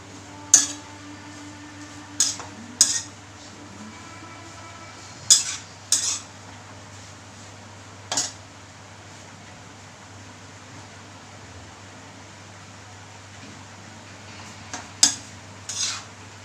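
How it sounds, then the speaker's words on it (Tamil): A spoon clinks and scrapes against a pan several times, sharp scattered taps while curry leaves are sautéed and stirred for chutney, over a steady low hum of a fan in the background. "இப்போ நல்லா கருவேப்பிலை வதக்க போகிறோம்"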